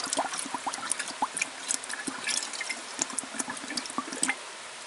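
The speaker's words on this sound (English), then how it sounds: "We can just dunk them in this bucket of water." Containers dunked into a bucket of water outdoors in the rain, with close, irregular splashes, drips and sloshing bursts that come and go for several seconds with no talking.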